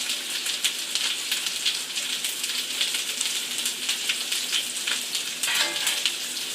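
Rib eye steak sizzling in a pan on high heat, a steady dense crackle and hiss with fine popping spatter, close and continuous throughout with no voices.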